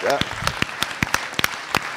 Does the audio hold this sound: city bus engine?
no